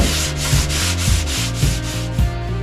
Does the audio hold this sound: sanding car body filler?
yes